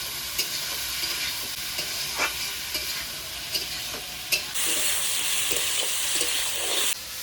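Chopped tomato and green chili are stir-fried in a pan with potato and onion, sizzling under scattered scraping strokes, and the hiss swells louder and brighter partway through.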